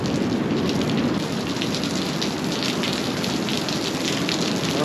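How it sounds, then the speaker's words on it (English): Steady heavy rain pours down in Scotland without a break, a dense hiss of drops hitting surfaces close by, with no voices. "You can see a lot of rain coming in."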